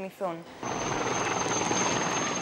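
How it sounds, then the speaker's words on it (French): A water-bombing firefighting helicopter arrives over a wildfire in the Peloponnese, Greece, its rotor roar loud and steady after a short voice at the start. "L'hélicoptère bombardier d'eau arrive enfin."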